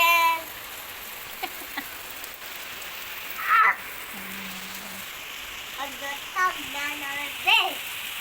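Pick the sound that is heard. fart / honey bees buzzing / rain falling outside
rain falling outside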